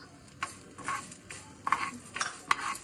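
A spoon scrapes and stirs through fenugreek seeds, mustard seeds and whole garam masala spices frying in a pan, giving several short clinks and scrapes over a faint sizzle, fairly quiet and close.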